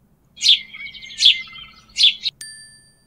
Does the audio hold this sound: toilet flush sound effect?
no